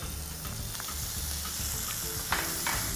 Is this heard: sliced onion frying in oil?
yes